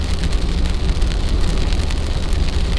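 Rain falling steadily on a Jeep, a dense, even patter and hiss that continues throughout with no talking.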